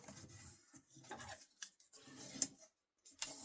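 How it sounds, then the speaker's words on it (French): Paper being creased into folds for a scrapbook album pocket: soft, close rubbing and scraping strokes in short bursts, separated by brief quiet gaps. "On va venir marquer les plis."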